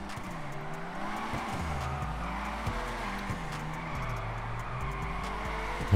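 A car drifts in GTA Online, its engine wailing and rising and falling in pitch in repeated waves while tires skid steadily underneath, a continuous close sound.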